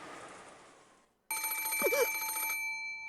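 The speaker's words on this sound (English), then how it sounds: "The sudden ring of the phone made me jump so hard I thought my heart would explode." A telephone in the video game Umineko suddenly starts ringing after a short silence, its bright electronic bell trilling loudly and continuously over soft game background music.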